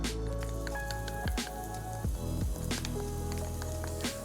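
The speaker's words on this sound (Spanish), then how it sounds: "Añadiremos en primer lugar ese toquecito de ajo y muy importante, siempre que vayamos a hacer una elaboración, que la sartén esté precalentada" Garlic sizzles steadily in a preheated frying pan for a sofrito, a continuous crackling hiss with scattered pops and spatters, up close over faint background music.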